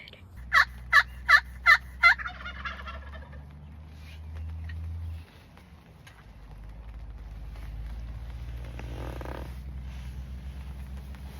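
Wild turkeys atop a bluff give a quick burst of five sharp gobbles, moderately distant, followed by a quiet outdoor stretch with faint rustling and low rumble.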